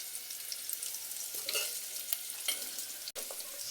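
Potatoes for batata poha sizzling steadily in a pan, soft frying hiss with a few scraping stirs, close but quiet, with one sharp click near the end.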